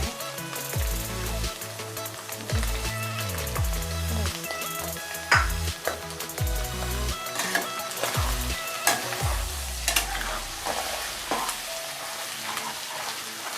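Sabudana frying with a little salt in a pan, a steady sizzle with repeated scraping and stirring strokes of a spoon against the pan bottom, close and without talk.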